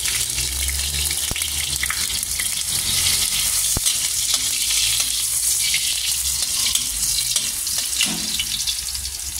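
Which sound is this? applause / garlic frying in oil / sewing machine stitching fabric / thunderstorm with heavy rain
garlic frying in oil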